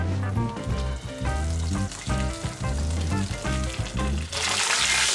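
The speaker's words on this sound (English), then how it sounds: "I'm also gonna sear those sides. You wanna get all this fat seared up" Fatty sides of an A5 Japanese Wagyu strip steak searing on a Weber kettle, a steady sizzle running under a loud rhythmic musical backing.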